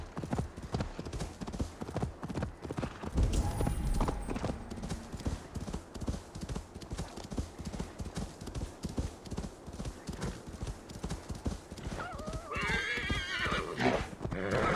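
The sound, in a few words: horse galloping in the video game Assassin's Creed Valhalla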